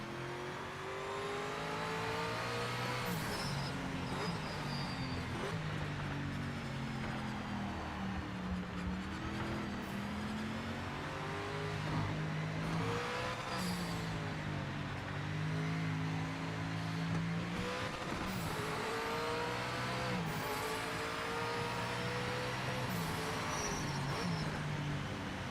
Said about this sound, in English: Shall we just turn the volume up just a wee second and listen to the engine?